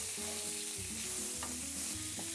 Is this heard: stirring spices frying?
yes